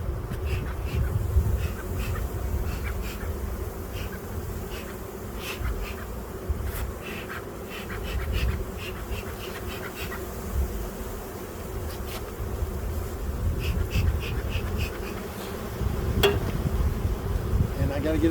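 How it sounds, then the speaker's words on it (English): A dense swarm of honeybees buzzes steadily around an opened hive being split into three, with individual bees zipping close by over a low constant hum, lasting throughout. "There's a bunch of bees."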